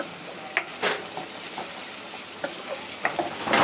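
Food fries lightly in oil in a pan, a soft continuous sizzle broken by a few sharp clinks and scrapes of a utensil against the pan.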